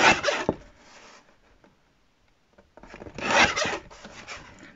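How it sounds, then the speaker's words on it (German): Folded paper being cut into 5 cm pieces for a lapbook, two bursts of close, dry rasping cuts separated by a quiet pause. "Und dann schneide ich mir hier das Ganze in 5 cm Stücke."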